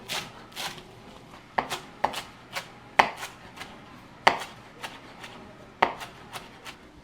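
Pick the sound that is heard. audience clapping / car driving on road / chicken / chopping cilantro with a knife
chopping cilantro with a knife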